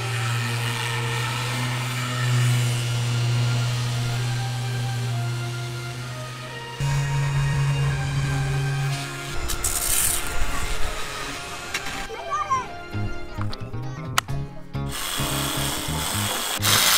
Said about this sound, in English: This is the electric sander.